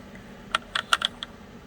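Several crisp keystrokes on a Logitech K845 illuminated mechanical keyboard with brown switches, a short uneven burst of close clicks followed by a lone final tap in a quiet room.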